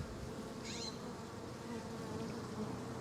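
A continuous close hum of honey bees swarming over open hive frames, steady and unbroken, with no speech.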